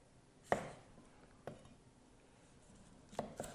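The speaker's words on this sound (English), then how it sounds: "I'm going to go for nice fine matchsticks of cucumber" A knife slices cucumber into fine matchsticks on a board, giving a few sparse, sharp chops spaced apart, quiet and close with no talking.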